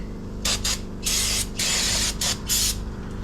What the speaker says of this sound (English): I'm going to spray it off one more time with brake cleaner.